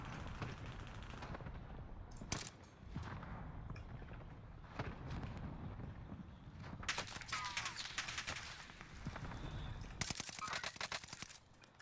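First-person shooter gunfire, faint bursts of rapid automatic shots and sharp cracks scattered throughout, rising into denser volleys near the end under a background mix of game sound.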